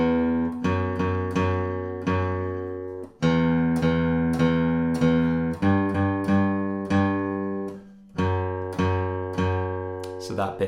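On guitar, a riff is played at a slow beginner pace. Plucked notes ring out in short repeated phrases with clear gaps between groups. It is loud and close, with no talking.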